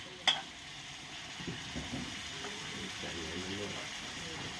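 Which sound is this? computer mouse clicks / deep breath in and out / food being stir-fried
food being stir-fried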